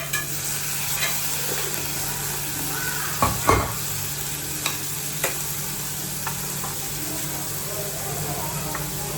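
Onions frying in a pan for rajma, a steady broadband sizzle throughout with stirring knocks and a few sharper clacks near the middle, close and moderately loud with no talk.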